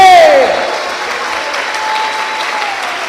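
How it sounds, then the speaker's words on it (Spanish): Church congregation applauding loudly right away, the dense clapping easing slightly after the first half second and then holding steady as a continuous wash of hands. "denle ese aplauso al Señor si usted lo cree"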